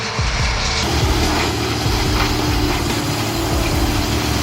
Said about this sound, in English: the TRX PT-10 combined with the Dennis SF cutting head turns a tree trunk into sawdust like magic